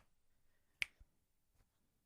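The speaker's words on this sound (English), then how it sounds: "That was me snapping my fingers" A single sharp finger snap cracks close by in a quiet room, followed by a faint softer click.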